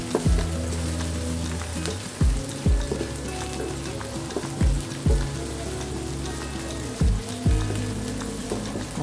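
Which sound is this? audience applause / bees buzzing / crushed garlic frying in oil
crushed garlic frying in oil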